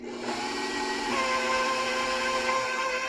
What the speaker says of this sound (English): I'm going to add one at a time to my mixer. So we're going to mix the first one in to get it stirred in.